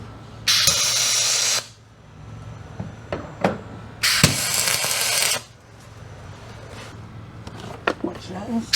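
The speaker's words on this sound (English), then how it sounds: "Just like pull the pressure washer out every once in a while and give her a good blast off." A pressure washer blasts down a boat in two loud, sustained bursts of hissing spray of about a second each, separated by quieter clanks and knocks, with a low steady hum underneath.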